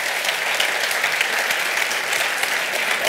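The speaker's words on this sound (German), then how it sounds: "Einen Applaus." Audience applause after a panel discussion, dense continuous clapping from a large crowd, loud and steady throughout.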